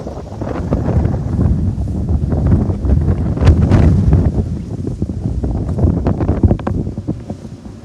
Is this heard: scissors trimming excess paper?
no